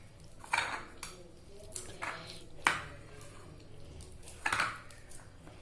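A spoon presses and mixes dates in a bowl, making several distinct clinks and scrapes against the bowl at irregular intervals, fairly quiet and close with soft background noise between strokes.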